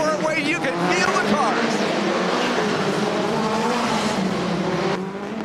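Race cars roar at the Rumble in Fort Wayne indoor event, a dense sustained engine drone with several cars revving and squealing together, loud and continuous under a commentator's talk.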